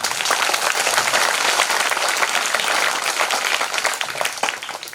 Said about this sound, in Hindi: ताली भी जोर से बजाया करो